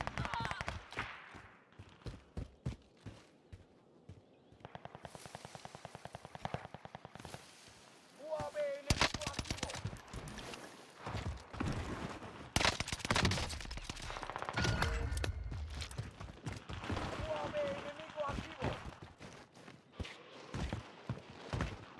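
Rapid bursts of gunfire crackle through a Warzone match, sometimes single shots and sometimes sustained volleys, loud and close, with a player talking over much of the action.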